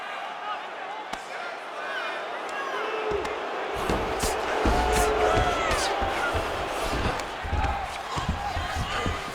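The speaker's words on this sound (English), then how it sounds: "crowd just loving it as the fighters, after an extended grappling battle, make their way back to the feet" An arena crowd cheering in the EA Sports UFC 5 video game, a loud swelling roar rising midway and staying up, with thumps and a commentator talking over it.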